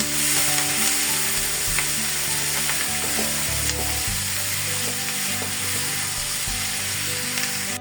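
Mixed vegetables fry for noodles in a hot pan, giving a loud, continuous sizzle with scraping and clattering of stirring throughout, close and without talk.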